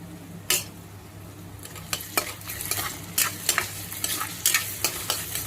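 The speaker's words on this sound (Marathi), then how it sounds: "टोमॅटो घातल्यानंतर एकजीव करून घ्यायचं आहे व्यवस्थित" A spoon scrapes and stirs tomatoes and salt through a sizzling bitter gourd masala in a pan, giving sharp, irregular clacks against the metal over a low, continuous fry.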